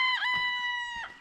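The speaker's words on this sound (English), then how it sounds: "that blasted rooster" A garden rooster crows once, close and loud, a sustained harmonic call that rises and falls at the end, with faint background sounds beneath it.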